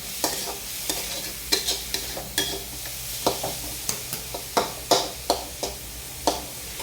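Grated ridge gourd stir-fried in a pan: a hissing sizzle broken by a steady rhythm of spatula scrapes and taps, roughly one or two per second, close and clear.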